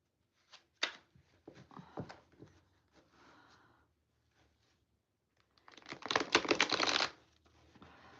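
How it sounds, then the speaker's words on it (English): A deck of playing cards is shuffled by hand: a few short riffles and taps early on, then a longer, louder burst of rapid fluttering riffles near the end, close by and with no talk. "I like shuffling these cards."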